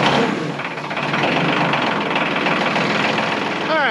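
A tractor engine idles steadily while warming up, a close, continuous low rumble with constant chugging and no change in pace throughout.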